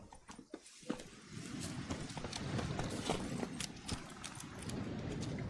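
Horse hooves clip-clop steadily on the ground as Geralt's horse Roach moves in The Witcher 3: Wild Hunt, a continuous close trotting rhythm with no talk over it.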